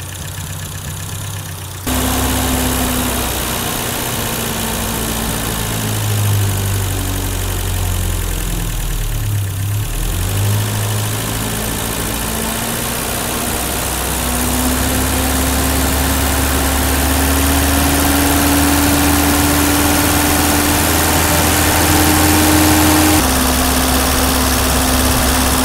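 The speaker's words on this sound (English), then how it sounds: "All of a sudden the RPMs just fall off." A 1984 BMW E30 318i four-cylinder engine idling close up, with a steady hum that sags and stumbles midway as the RPM falls off, then recovers to a smooth idle.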